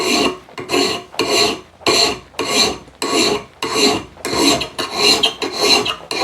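Someone files a steel hammer-and-chisel graver by hand, making about a dozen loud, close, rasping strokes in a steady back-and-forth rhythm with brief gaps between them.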